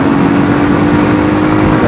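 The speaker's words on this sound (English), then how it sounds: "Let's get these revs ready for the 30 limit." A Honda CB250RS motorcycle engine revs loud and close, a steady sustained drone with a constant engine tone and no talk.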